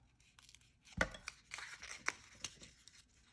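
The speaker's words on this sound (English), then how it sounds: "And then we'll just fold our little box up" Paper for a small craft box is folded and pressed shut, giving a few close crinkling, tearing-like crackles and taps in quick succession over a quiet background.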